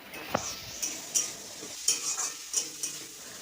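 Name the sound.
stirring and frying soybean chunks with amaranth in pan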